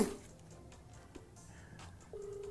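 A telephone ringing during a call-in radio broadcast. A short tonal ring sounds at the start and another begins near the end, faint over a quiet studio background.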